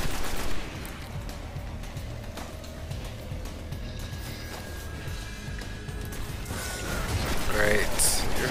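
Steady, loud gunfire from the video game Destiny on PS4 during a fight on Earth's Moon, a continuous dense barrage with someone talking over it.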